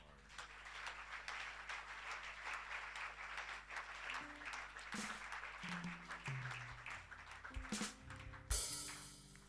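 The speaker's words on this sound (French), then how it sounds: "Acclamons ces paroles." A church congregation at a Sunday service breaks into sustained, dense applause that swells and holds for several seconds, with a few low voices and tonal sounds underneath before it tapers off.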